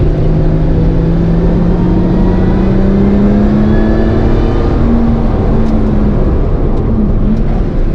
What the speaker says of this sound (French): je suis en train de faire chauffer la voiture